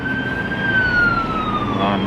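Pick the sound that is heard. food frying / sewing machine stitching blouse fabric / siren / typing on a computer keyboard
siren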